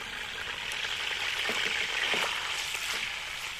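Finely chopped onion fries in hot oil for chana pulao, a soft, steady sizzle with faint crackles and light stirring, fairly quiet and with no voices.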